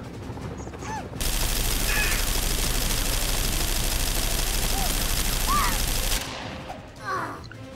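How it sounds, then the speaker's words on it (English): Machine gun fire in the Naughty Bear video game, a loud sustained burst of rapid continuous shots lasting about five seconds, with cartoonish character yelps faintly around it. "Still have 27 bullets in my machine gun. Let's put them to good use."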